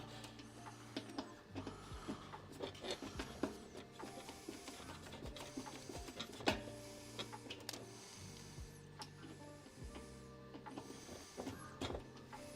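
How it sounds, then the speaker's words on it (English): Screws being tightened by hand while a coffee roaster case is put back together, giving a run of small clicking, ratcheting and scraping taps at close range, with a low steady hum underneath and no talk. "Let's tighten this one up."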